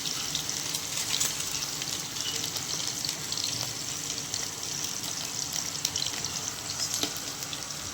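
Mustard seeds and tomato fry in hot oil for a soybean khichdi, giving a steady, close sizzle and crackle with a few sharp pops throughout.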